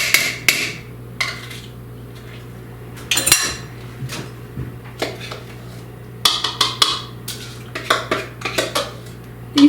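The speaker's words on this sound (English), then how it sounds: "I put the orange juice and gelatin mixture in a larger bowl, and now I'm going to add to that the cream cheese mixture" Cream cheese mixture is scraped into orange juice and gelatin in a large bowl, with bursts of spoon clinks and scrapes against the dish between quiet pauses, close and fairly loud over a low steady hum.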